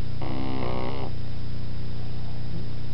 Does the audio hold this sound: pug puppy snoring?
yes